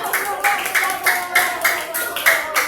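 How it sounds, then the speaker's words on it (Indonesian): Classroom applause for a student group, rhythmic rounds of clapping from a class of children, fairly close and bright, repeating in quick bursts for a few seconds. "beri tepuk tangan untuk kelompok 2. Tepuk tangan yang meriah"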